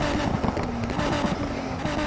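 A steady, droning engine hum with a low harmonic tone from a Nissan Skyline race car in Need for Speed Heat, continuing without pause and no talking.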